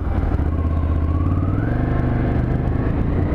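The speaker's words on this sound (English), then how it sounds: "I just uh, picked up a new Ducati Scrambler" A new Ducati Scrambler motorcycle engine rumbles loud and close, a steady throbbing drone with a slight rise in pitch partway through as the bike rides on.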